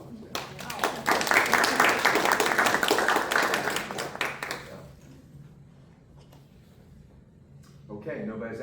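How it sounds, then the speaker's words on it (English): At a bioethics talk, the audience claps for Dr. Abraham, a moderate burst of applause that fades out after about four seconds, leaving quiet room noise before a voice begins speaking. "go ahead and give her a round of applause"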